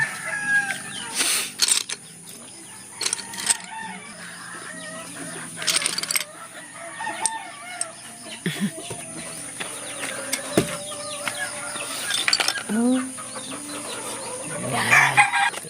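Chickens and roosters on a farm crow and cluck throughout, with several overlapping calls at varying distances against a steady high-pitched background hiss.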